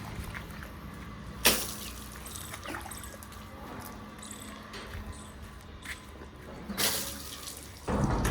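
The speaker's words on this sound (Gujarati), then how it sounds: "પછી નળી મૂકશો એની માથે મોટર ચાલુ કરી." Water from a hose pipe driven by a running pump motor splashes steadily at close range, with a faint hum underneath and two sharper bursts of spray partway through.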